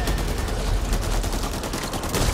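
Dense, continuous gunfire from a Back 4 Blood firefight, rapid overlapping bursts and automatic fire sustained loudly throughout without pause.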